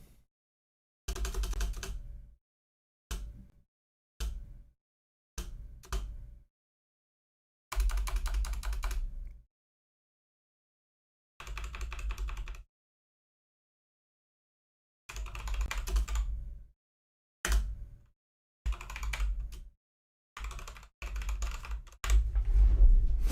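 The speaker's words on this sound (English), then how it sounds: "My keyboard is pretty loud" Loud computer keyboard being typed on in short separate bursts, with gaps of silence between clusters of keystrokes and a heavier run at the end.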